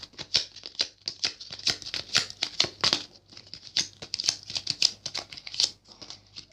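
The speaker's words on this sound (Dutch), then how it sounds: "Kijk, en dan ga ik de kaarten schudden." A deck of playing cards is shuffled by hand during a card trick, giving a rapid run of crisp riffling snaps and flicks in quick bursts, close up and with no talking.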